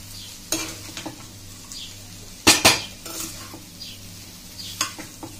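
Schezwan fried rice is tossed and mixed in a pan over a light sizzle, with repeated metallic scrapes and clanks of the spoon against the pan, including a loud double clatter partway through, and no one speaking.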